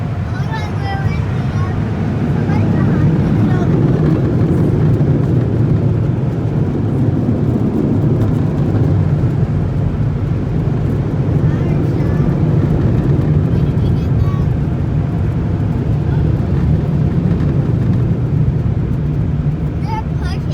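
An automatic car wash conveyor pushes a car along, giving a steady low mechanical rumble and hum that runs throughout at a constant, fairly loud level.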